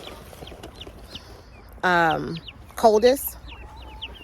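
Bigger chicks cluck in two short bursts of nasal, stepped calls, close but fairly soft, against a quiet room with faint background noise and a few words of speech.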